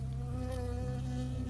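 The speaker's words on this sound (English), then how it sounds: "I got stung by a bee." Buzzing of a bee in the Firewatch video game, a steady, close insect drone that continues without a break for the whole short stretch, with no talking over it.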